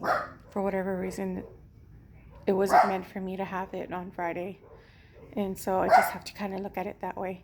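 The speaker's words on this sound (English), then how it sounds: "Sorry about my dog barking." A pet dog barks a few times at home while a person keeps talking over it, the barks mixed into steady nearby speech.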